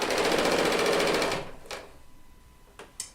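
An L890 serger stitches in a fast, even mechanical whir for over a second, then winds down and stops, leaving a quiet room broken by a couple of sharp clicks.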